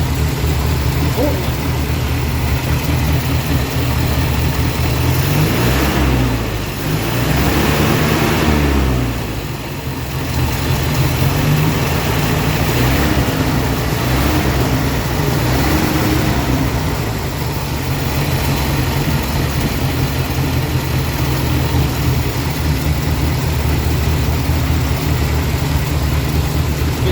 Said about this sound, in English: Throttle body fuel injection on a tractor.